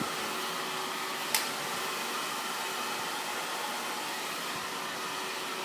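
A hair dryer roars steadily and close while blow-drying a one-length haircut, a continuous airy whoosh with one brief sharp click partway through.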